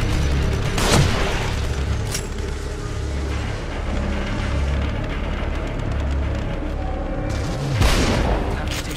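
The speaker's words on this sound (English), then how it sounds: "They're shooting from above." Gunfire from above in the video game The Evil Within, booming shots and heavy low rumbles over a constant droning background, with a couple of stronger impacts standing out.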